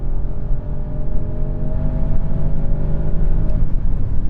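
An Audi S8 pulls hard on a de-restricted Autobahn, its engine droning loud and steady with a rising tone under road and wind noise inside the cabin, and no talk over it.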